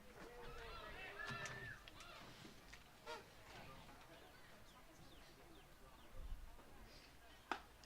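Crow-like caws imitated by voices in the visiting dugout at a college baseball tournament game between Ouachita and Harding, faint and scattered in the background beneath a commentator's voice and crowd ambience.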